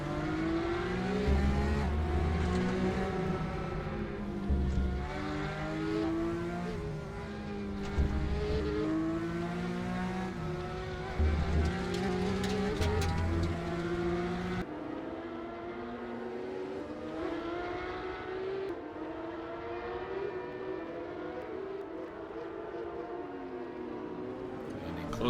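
Porsche Carrera race cars lapping Twin Ring Motegi during a Porsche Carrera Asia round, engines droning steadily with rising and falling revs, fairly distant and continuous, with a commentator talking over them.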